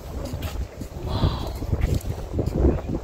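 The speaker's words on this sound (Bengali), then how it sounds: "প্রচন্ড ঠান্ডা হাওয়া বইছে" Strong, cold mountain wind at Gue Monastery in the Spiti Valley buffets the microphone in uneven gusts, a close, rough rushing that rises and falls.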